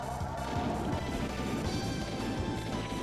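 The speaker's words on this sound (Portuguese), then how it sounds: "eu chuto e quebro o carro no meio" A kick smashes a car in the Super Nintendo game Gekisou Sentai Carranger: Zenkai! Racer Senshi, a dense, loud crashing impact under busy game sound, with no voices.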